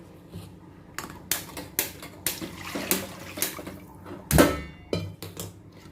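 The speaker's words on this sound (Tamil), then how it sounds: "நம்ம பிரியாணிக்கு உண்டான தண்ணியை ஊற்றி" Water for mutton biryani splashes and gurgles into a metal pot in several uneven bursts, with light clanks of cookware between pours.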